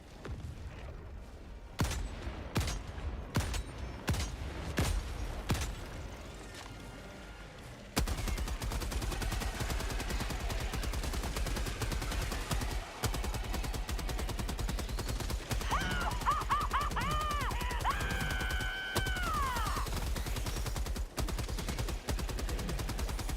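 Sustained gunfire from a deployed weapon emplacement in a chaotic co-op shooter battle against charger and behemoth enemies, with a dense, continuous rattle of rapid shots, scattered heavier bangs and brief bursts of game tones layered on top.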